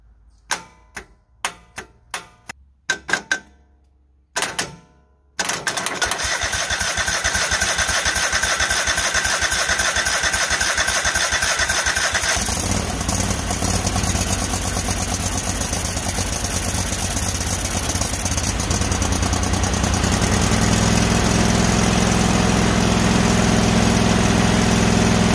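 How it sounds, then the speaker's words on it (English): A GT3000 garden tractor engine is cranked and fires: a few short stuttering starter bursts, then the engine catches and runs loud and steady, settling into a rough continuous idle close by. "we're gonna hit the starter and see if this thing will decide to actually fire"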